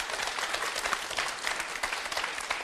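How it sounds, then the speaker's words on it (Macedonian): Steady applause for the teachers of a visiting folklore group in a TV studio, a dense even clapping from an audience sustained throughout at moderate loudness. "Еден аплауз и за нив."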